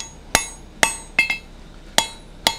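Blacksmith's hammer striking hot steel on an anvil while tapering the struck end of a monkey tool, six sharp ringing metallic blows at an irregular pace, close and loud, no speech.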